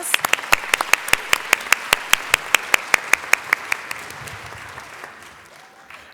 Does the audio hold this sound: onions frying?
no